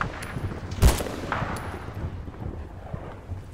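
Battlefield: Bad Company 2 gunfire: one loud close shot early, then scattered distant cracks and bursts over a rumbling battlefield ambience.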